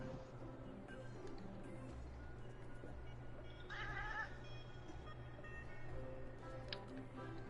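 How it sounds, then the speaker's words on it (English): A pet cat gives a single short meow partway through, fairly faint against a steady indoor background hum. "Did you hear my cat?"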